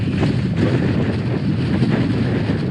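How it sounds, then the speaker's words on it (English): Strong wind at Land's End in Cornwall buffeting the microphone, a loud, continuous rumbling roar with no voices. "This is the Land's End Wind."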